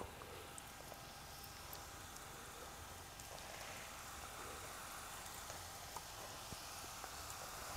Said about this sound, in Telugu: నూనె బాగా ముందరలే పెట్టుకొని బాగా కాగిన తర్వాత ఇప్పుడు మనం పిసుక్కున్న పిండిని వేయాలి